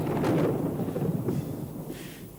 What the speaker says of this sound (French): Quel orage!